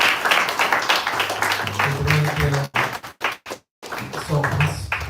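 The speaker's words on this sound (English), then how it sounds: "Can you have an applause for Marisha?" A small audience at a Sunday devotional talk claps for a speaker, a short burst of hand claps mixed with voices that breaks off into brief silence before talk resumes.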